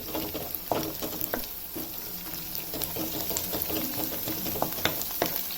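Ghee sizzles steadily in a pan while mutton lungs masala cooks, the hiss broken by scattered pops and crackles, close and moderately loud, with no talk.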